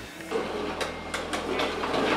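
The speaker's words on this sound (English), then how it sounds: "Now we'll have to touch up audio because you hear that scraping." Wheels of a vacuum cleaner used as a makeshift camera dolly scrape and rumble steadily along the floor, a close, continuous grinding with a low hum beneath it and a few sharper scuffs.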